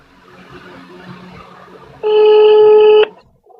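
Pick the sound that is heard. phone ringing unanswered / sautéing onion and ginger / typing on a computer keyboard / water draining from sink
phone ringing unanswered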